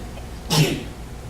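A single sharp sneeze rings out during a church service, a brief loud burst close by and above the low hum of the room.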